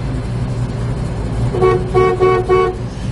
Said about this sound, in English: Horn works as it should also.